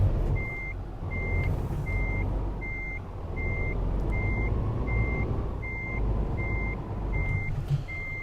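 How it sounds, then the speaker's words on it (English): A reversing truck in Euro Truck Simulator 2 gives a steady run of loud, evenly spaced beeps, about eleven of them, over a constant low engine drone. "And then we can just start backing it up."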